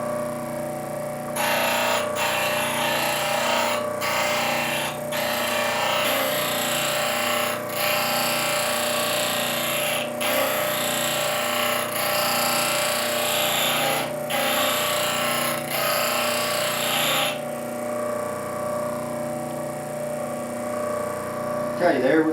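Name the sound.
grinding a travisher blade to sharpen it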